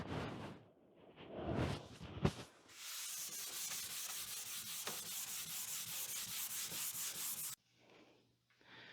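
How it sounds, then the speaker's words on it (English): Painted wooden vanity being scuff sanded by hand between coats of chalk paint: steady, close rhythmic rasping strokes that run for several seconds and then stop, with quieter rubbing after. "Just give it a little scuff sand, just to be sure everything's nice and smooth."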